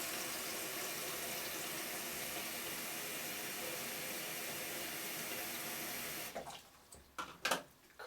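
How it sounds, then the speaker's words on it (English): Cold tap water running into a 120 film developing tank, a steady close hiss of filling water that cuts off after about six seconds, leaving faint clinks and handling noises. "What I like to do is just run cold water, fill up the tank"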